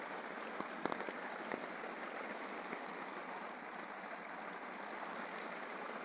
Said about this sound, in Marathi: पाऊस झाला थेट.